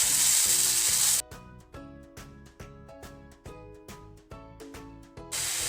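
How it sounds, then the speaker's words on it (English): Onions hiss and sizzle in a hot pan for a mutton curry, a bright frying crackle at the start and end with a stretch of rhythmic background music in between. "Add the onions. Fry till it is transparent."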